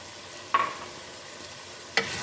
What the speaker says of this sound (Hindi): लेमन के जूस को भी हम कलेजी में मिक्स कर लेते हैं और 2 मिनट के लिए भून लेते हैं